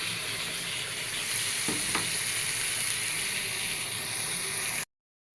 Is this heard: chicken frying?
yes